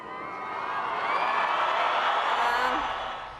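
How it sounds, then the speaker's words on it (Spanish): A large crowd cheers and applauds at the swearing-in of Colombia's president, Gustavo Petro, a dense, steady roar of clapping and shouts from a distance that swells and then fades slightly. "Ahí está entre el aplauso de la multitud cuando es juramentado el presidente de Colombia"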